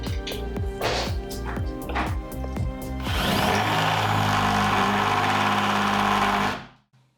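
A power drill revs in short bursts, then runs continuously at high speed as it grinds through aluminium, a loud whining roar that stops abruptly.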